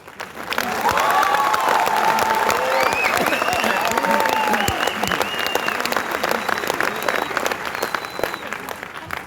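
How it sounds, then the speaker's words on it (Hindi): A large audience at a Mi Lifestyle Marketing event in Kolkata claps steadily and loudly throughout, dense sustained applause with a few raised voices and cheers mixed in. "और मैंने बोला दिल वाली ताली बजाओ।"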